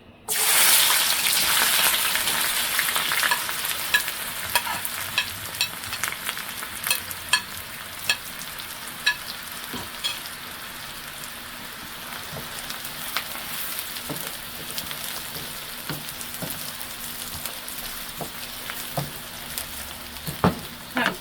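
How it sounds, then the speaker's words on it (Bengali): Onions and red chilies frying in hot oil for a water spinach dish, a steady loud sizzle with scattered scraping stir strokes throughout, no talking. "এখন মরিচটা লাল হয়ে গেছে, এখন আমি পেঁয়াজ দিয়ে দেবো"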